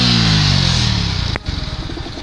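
A Yamaha R15 V3 fitted with a high-performance air filter revs loudly and the engine note sinks as the throttle closes, followed by a sharp click and a lumpy, throbbing idle, with no talking.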